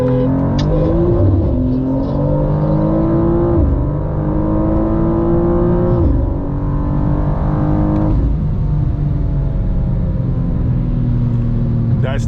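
A 2025 BMW M3 Competition xDrive accelerates hard from inside the cabin during a race against an M2 with a CS tune. The engine climbs loudly through repeated rising sweeps with brief dips at each upshift, and it continues pulling strongly.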